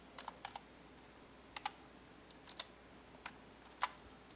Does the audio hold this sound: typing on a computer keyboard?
yes